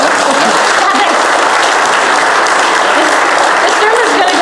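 A church congregation applauds during a sermon, a steady, loud wash of many hands clapping together that fills the whole stretch without letting up.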